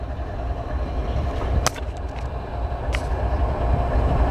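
A Canadian National southbound ethanol freight train passes in Marion, Ohio, giving a loud, steady low rumble of rolling cars with a few sharp metallic squeals and clanks.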